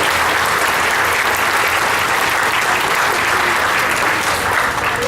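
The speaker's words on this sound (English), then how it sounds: "So can we give them a round of applause?" Loud, sustained audience applause at Union Pacific's 150th celebration, a thick wash of many hands clapping evenly without a break.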